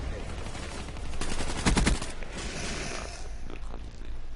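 Gunfire at a robot in Call of Duty Black Ops 3, heard as a rapid burst of shots that swells around the middle over a continuous mechanical game rumble.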